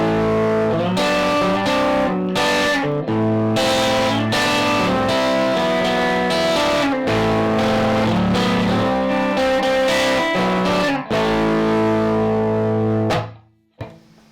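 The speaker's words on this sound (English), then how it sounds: "Got a little bit of distortion on it." Distorted electric guitar through an Egnater Silversmith overdrive boost pedal playing chords and riffs with a boosted, gritty tone, loud and continuous, ending with a sudden stop and a faint ringing tail.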